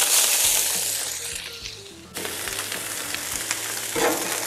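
Bell peppers hit hot oil on a griddle for chicken fajitas, giving a loud, steady sizzle that fades, then bursts up sharply again with light clatter from a stirring utensil.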